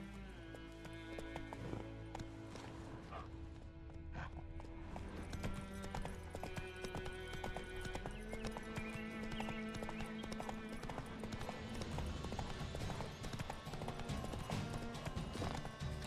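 Horse hooves galloping in The Witcher 3, a steady rapid clip-clop rhythm with an occasional whinny over game music and ambience, moderately loud throughout.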